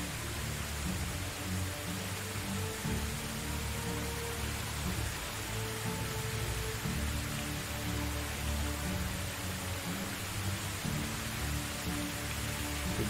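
Rain falling in the video game Medieval Dynasty, an even, continuous hiss of drops on surfaces holding steady for the whole stretch, with a faint low hum beneath and no talking.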